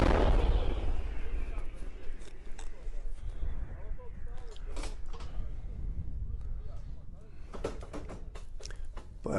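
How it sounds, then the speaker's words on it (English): Ukrainian M777 howitzer artillery firing in eastern Ukraine, a heavy low boom opening the stretch, followed by sharp intermittent blasts and rumble in a noisy outdoor scene with voices talking. "Video of Ukrainian M777 howitzer being used in eastern Ukraine."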